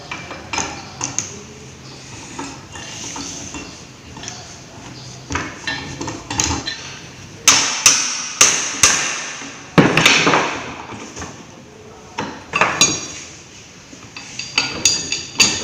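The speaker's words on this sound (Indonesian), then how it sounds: "Kemudian lepas long tie rod yang sisi satunya lagi dengan menggunakan kunci pipa." A pipe wrench working loose the tie rod of a hydraulic rack-and-pinion power steering unit, giving sharp metallic clanks and knocks in irregular bursts with quiet gaps between, close and fairly loud.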